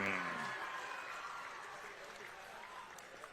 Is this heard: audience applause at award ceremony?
yes